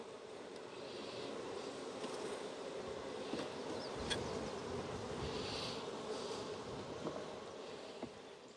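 Honeybees buzzing around an apiary hive, a dense, steady outdoor hum of many insects, fairly faint and continuous, with a few individual bees passing closer.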